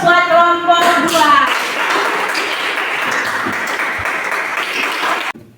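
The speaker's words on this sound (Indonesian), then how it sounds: "Sekali lagi berikan aplaus buat kelompok 2" An audience in a classroom setting claps for a presenting group, loud and dense applause that rises after a short spoken phrase and holds steadily before cutting off abruptly.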